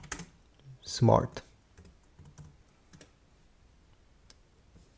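Someone types on a computer keyboard while setting up HP printer software on a Mac, with brief faint key clicks scattered between stretches of spoken instructions and a louder burst of speech near the start.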